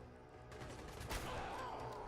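Faint, distant gunfire from the video game Fallout 4 sounds as a brief burst of shots under low background game ambience.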